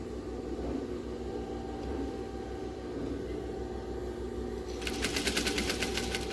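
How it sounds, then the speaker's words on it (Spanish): A sewing machine stitches a 1 cm seam on a circular fabric face mask, a low steady motor hum that turns into a fast, loud run of rhythmic needle strokes near the end, with no voices. "Rematamos varias veces y cosemos a 1 centímetro el otro lado."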